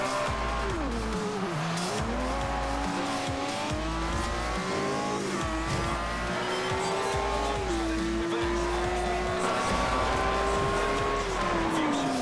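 A Lamborghini accelerates hard on a wet road in the racing game Forza Horizon 2, engine note climbing and shifting through gears with tire squeal and road hiss, loud and continuous with a voice speaking over it.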